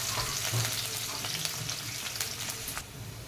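Onion sautéing in hot oil in a pan for a sprouted moong curry: a dense continuous sizzle with crackles and scraping spoon strokes, close and fairly loud, easing slightly at the end, with no voices.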